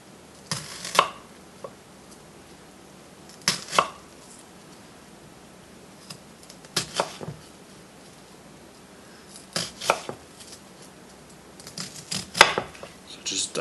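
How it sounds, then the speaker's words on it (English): A knife knocks sharply against a cutting board chopping an onion, in scattered clusters of quick chops separated by pauses, close and fairly crisp. "The onion you're going to cut into really tiny chunks."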